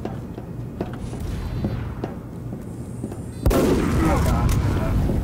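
Rapid gunfire and sharp cracks in the video game Team Fortress 2, light scattered shots building to a loud, dense burst of firing midway that continues to the end.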